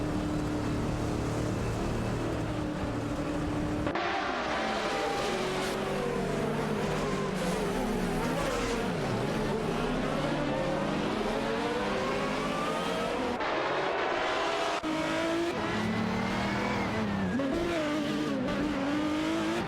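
Race cars in an AI racing video game roar continuously, engines whining up and down through gear changes with occasional tire squeal, several cars passing in dense overlapping drone.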